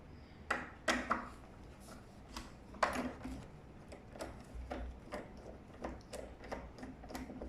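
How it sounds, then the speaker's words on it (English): A screwdriver backs a screw out of a doorknob, giving a few sharp metallic clicks and ratcheting ticks near the start, followed by quieter, irregular small scrapes and taps. "One screw removed,"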